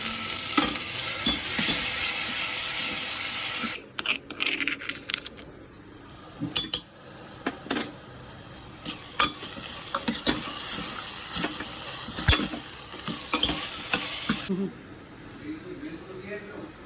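Soaked mung beans are tempered in hot oil, starting with a loud, hissing sizzle. Busy stirring follows, with utensil scrapes and clatter against the pan, and a voice is heard at times.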